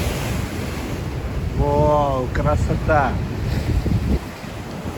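Large storm waves surge and break against the Yalta embankment in Crimea at night, a steady wind-blown roar of surf, with a man briefly exclaiming over it.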